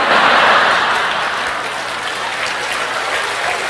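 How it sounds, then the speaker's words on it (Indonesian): A church audience claps in a full, sustained burst of applause, loudest at the start and then easing to a steady, slightly softer patter. "Nggak usah tepuk tangan."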